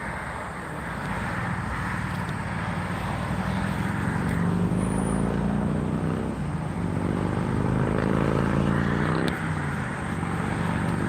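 Steady road traffic near a highway exit in Florida, a continuous broadband roar of passing cars with gentle swells as vehicles go by, loud and close, with no talking.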